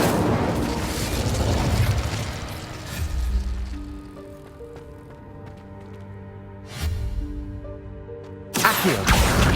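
A fire spell erupts in Hogwarts Legacy with a roaring whoosh and rumbling bursts, settling into a quieter tonal hum before another sharp flare near the end.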